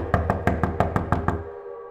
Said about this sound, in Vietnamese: Tiếng gõ cửa ngày càng mạnh hơn,